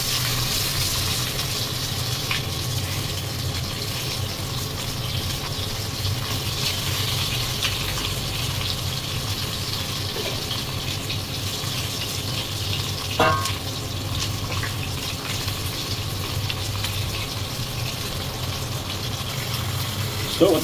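Chicken skin fries in hot oil with a steady, even sizzle that lasts throughout. A faint scrape or clink of a utensil cuts in briefly midway.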